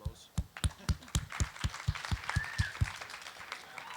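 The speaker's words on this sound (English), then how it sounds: "So, round of applause." An audience at the end of a talk claps in a sparse, evenly spaced rhythm of distinct claps, fairly quiet and heard from a little distance in a room.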